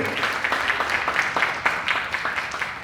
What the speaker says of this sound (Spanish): Un aplauso para este panel de lujo.